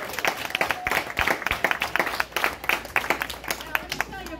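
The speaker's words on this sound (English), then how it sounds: "How about a round of applause?" Scattered, uneven clapping from a modest audience welcoming a guest to a presentation, individual claps audible and rising and falling in bursts, with a voice speaking over part of it.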